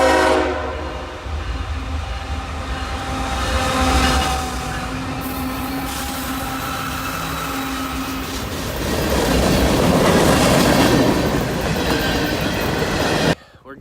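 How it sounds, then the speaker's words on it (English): A freight train rolls past a hiking trailhead on the Ouachita Trail, a loud continuous rumble and clatter of wheels with horn blasts, swelling as the cars go by close. "You never think about having to wait for a train"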